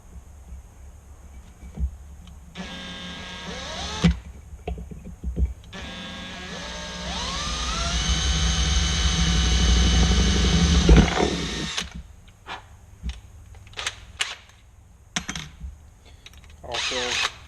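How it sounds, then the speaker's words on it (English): A power drill whirs in short bursts while drilling a 1/4-inch hole in a Banshee headlight, then runs in a long sustained spin that rises in pitch and strain before stopping, followed by scattered clicks and handling noises. "You're going to want to drill the hole right in this crease"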